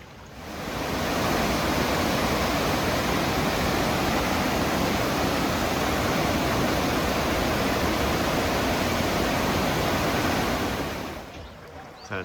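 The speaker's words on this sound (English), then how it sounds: "there's a lot of water rushing down there." A river swollen by snowmelt and rain rushes past close by, a steady, loud, broadband roar of churning water that holds constant for several seconds before fading slightly at the end.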